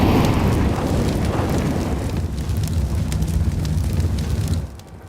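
A Molotov fire burns in Counter-Strike during a BLAST Premier match, a loud, continuous crackling roar with dense low rumble that holds steady for several seconds, then drops off sharply near the end.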